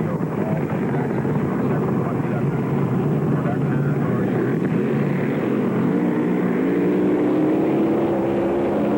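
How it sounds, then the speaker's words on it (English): Two big supercharged top fuel drag boat engines rumble and rattle at the starting line of a drag boat race, loud and steady throughout, with a rising whine near the end. "That's the top rattle of those two big old fuel motors."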